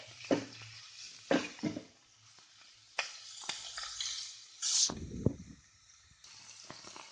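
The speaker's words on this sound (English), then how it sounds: "my onions are getting nicely stir fried" Onions stir-frying in a pan for dry sweet potato masala, with intermittent scraping stirs and a soft sizzle that rises and falls close by, no talking.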